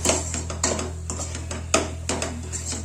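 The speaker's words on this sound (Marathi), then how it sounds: "त्याला चांगलं मसाल्याला परतून घ्यायचं" A spoon scrapes and taps against a pan as spice masala with chilli powder and salt is stirred and sautéed for aloo chole bhaji, in irregular clinks and scrapes over a steady low hum.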